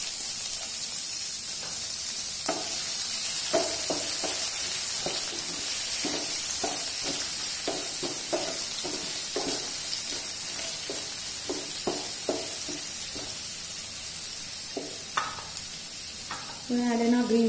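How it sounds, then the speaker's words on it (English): Chopped onions fry in a pan with a bay leaf for South Indian tomato rice, giving a steady loud sizzle throughout with scattered clicks and scrapes of a spoon stirring. "I'm going to add in chopped onions"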